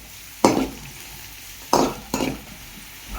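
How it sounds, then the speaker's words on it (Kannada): A slit green chilli fries in a pan over a quiet background sizzle, while three brisk spatula scrapes stand out near and loud. "ಇದನ್ನು ನೀಟಾಗಿ ಫ್ರೈ ಮಾಡ್ಕೋಬೇಕು"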